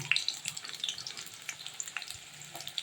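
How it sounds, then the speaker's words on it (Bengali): Chopped onion hits a pan of hot oil, giving a faint, steady sizzle with light crackling pops throughout and no voices. "তেলের মধ্যে অল্প একটু তেল দিচ্ছি, তেলের মধ্যে পেঁয়াজ কুচি দিয়ে দিব।"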